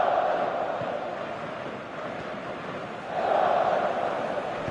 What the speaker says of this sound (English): We have a hugely expectant crowd here.